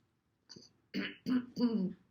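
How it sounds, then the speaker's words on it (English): A person clears their throat several times in quick succession, close and fairly quiet, each rasp a little stronger than the last. "And then can you clear your throat?"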